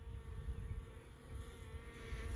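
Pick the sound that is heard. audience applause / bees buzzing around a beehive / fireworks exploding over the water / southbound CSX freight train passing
bees buzzing around a beehive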